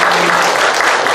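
Congregation at a Korean church service applauding together, a dense, steady wash of clapping that fills the short moment without a break.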